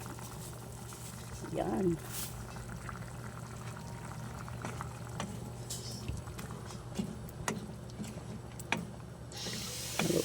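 Meat simmers in coconut milk in a pot, giving a constant bubbling, pattering boil with occasional louder pops and stirring clinks, while a voice speaks briefly.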